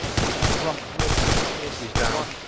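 Heavy gunfire in the video game ColdHarbour: three loud, close bursts of shots, each starting sharply and then trailing into rumbling echoes, with a brief word spoken over them.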